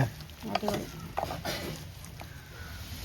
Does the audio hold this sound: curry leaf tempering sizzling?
yes